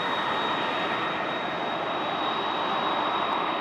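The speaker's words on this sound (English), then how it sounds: "FedEx MD-11 looking angry as heck" A FedEx MD-11 jet at Toronto's airport roars as a broad, steady engine rush with a thin, constant whine above it, heard from a moderate distance throughout.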